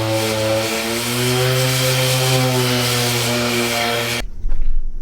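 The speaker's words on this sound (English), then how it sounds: "Back to sanding." A power sander works wood for a green epoxy river table, a loud steady whine with a constant pitch running for about four seconds before it cuts off abruptly, leaving a brief thump and quiet.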